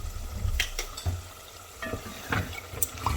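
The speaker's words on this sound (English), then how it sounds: "The stew, the jollof rice stew is still cooking" Jollof rice stew cooking in a pot in a home kitchen, a close, low bubbling sizzle broken by several clinks and scrapes of a utensil against the pot.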